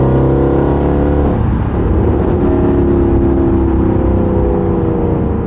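A loud 2011 Mercedes C63 AMG Edition 125 engine from inside the cabin with windows up, a deep steady drone that rises slightly as it revs, with no one speaking.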